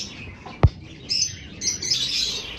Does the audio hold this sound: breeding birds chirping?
yes